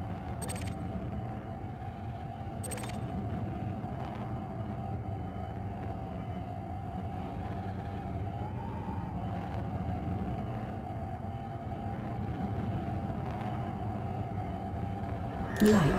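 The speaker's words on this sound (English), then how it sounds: "Afterburners. Maxing engines." Spaceship engines in Elite Dangerous drone in a steady low rumble with a sustained mid-pitched hum, continuous and fairly quiet, with a few faint clicks and a brief swell near the end.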